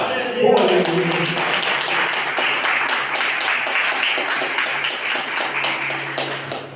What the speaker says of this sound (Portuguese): Palmas para Deus.